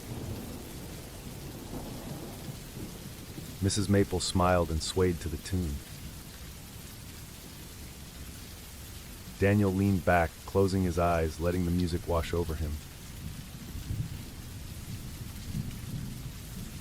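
Quiet, steady rain patters on windows with faint thunder rumbling low beneath it, continuing under two stretches of calm narration.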